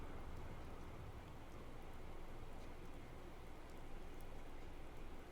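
Rain falling in the video game Fallout 4, a faint, steady hiss of drops with soft scattered patters, no voices over it.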